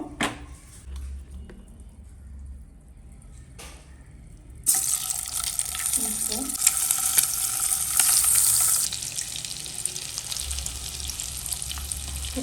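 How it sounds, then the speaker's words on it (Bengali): Eggs drop into hot oil seasoned with turmeric and salt, and a loud steady sizzle takes over after a quiet start, then eases a little but keeps frying to the end. "এবার ডিমগুলো এক এক করে আমি ভাজবো"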